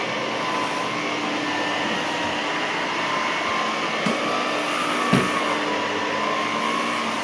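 Electrolux Olympia One vacuum cleaner running steadily, a continuous broadband motor whine and airflow rush with a couple of faint knocks as the low-profile head moves, no talk.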